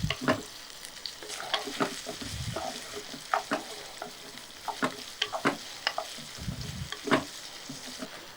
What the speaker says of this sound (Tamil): இந்த வெங்காயம், இதை வந்து லோ ஃப்ளேமில் ஒரு 3லேருந்து 4 நிமிஷம் அப்படியே வதக்கி எடுத்துக்கலாம்